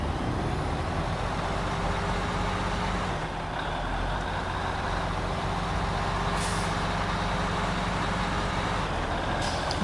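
A heavily loaded truck in SnowRunner hauling cement and metal rolls, its engine droning low and steady throughout with a brief dip partway, and a faint hiss like an air brake releasing near the end.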